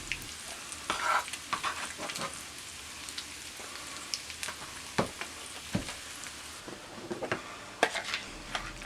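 Onion frying in a pan and being stirred, a soft sizzle underneath with scattered scraping and clinking strokes of the utensil at an irregular pace, close and fairly quiet, no voices.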